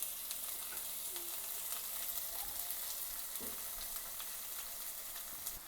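Curry leaves, garlic, onion and tomatoes caramelizing in a pan for an egg curry masala gravy give a constant broad sizzle, even and unbroken, with a few faint scrapes of stirring; heard close up, no one speaking.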